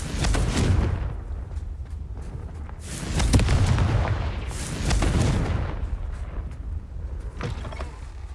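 Repeated Confringo fire spell explosions in Hogwarts Legacy, several booming blasts spaced a couple of seconds apart, each a sharp crack swelling into a low rolling rumble, with creaky mechanical clatter between them.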